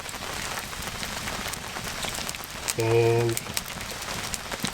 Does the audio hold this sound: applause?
no